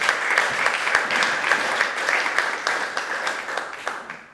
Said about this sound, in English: applause for that and for all panelists